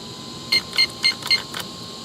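Kyosho Inferno GT2 VE Audi R8 LMS RC car's electronic speed controller gives five short, evenly spaced beeps at power-up, close and clear over a quiet background.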